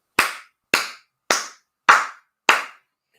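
A group claps five times in unison, evenly spaced sharp cracks about half a second apart, each decaying quickly into silence, with no voices.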